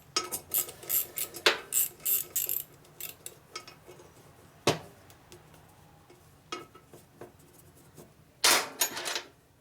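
A wrench loosens a fastener on a Harley Shovelhead motor during a rebuild, giving close metallic clicks and clanks, first in a quick rhythmic run, then as scattered sharp knocks and a final cluster of clatter.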